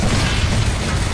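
A grenade detonates in Apex Legends gameplay, a short, loud, dense boom with a rumbling low end filling the whole moment, heard alone without talk.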